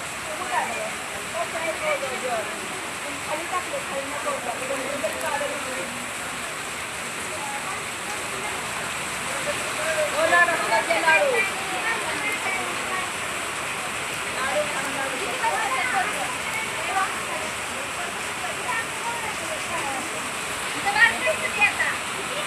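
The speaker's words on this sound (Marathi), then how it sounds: "वरुण राजाचं आगमन झालं आणि इतका भरपूर पाऊस झाला" Heavy monsoon rain pours down during a roadside stop in Indapur, a steady, dense hiss of water that holds throughout, with faint voices underneath.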